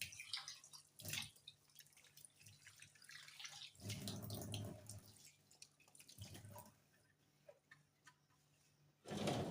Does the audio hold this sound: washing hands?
yes